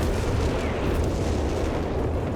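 Artillery loader firing in Company of Heroes 3, a dense, steady rumble of distant bombardment with muffled booms blending into a continuous low roar.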